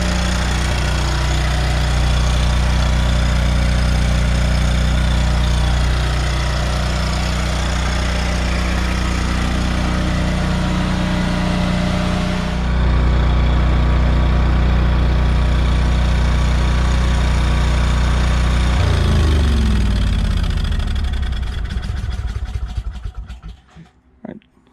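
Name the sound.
15kW Westinghouse generator running inside enclosure shed, exhaust side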